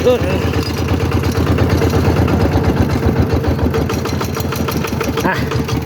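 A walking tractor engine runs at a steady idle with a rapid, throbbing chug and loud clatter while someone talks over it.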